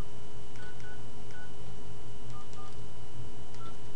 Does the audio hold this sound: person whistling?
no